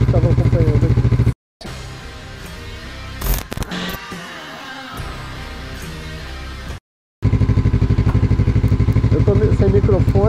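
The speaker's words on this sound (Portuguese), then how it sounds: "Deve estar pegando muito o som da moto também" A Royal Enfield Meteor 350 motorcycle engine runs with a loud, steady throb close by. It cuts out briefly twice, and someone talks over the rougher middle stretch.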